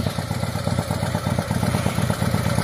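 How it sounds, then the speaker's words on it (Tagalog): Kaloy's motorcycle engine runs steadily at close range, giving a continuous low throbbing idle with a clattering mechanical texture that holds even throughout. "Ang motor ni Kaloy"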